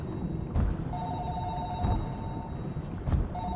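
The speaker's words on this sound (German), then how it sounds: "Und warum höre ich ein Telefon?" A telephone rings in the underwater horror game Narcosis, in short repeated bursts of bright tones over a low, rumbling ambient drone with a few dull thumps.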